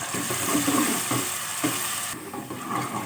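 A large chopped onion frying in a pan, a steady close sizzle with light stirring scrapes running throughout, no voices.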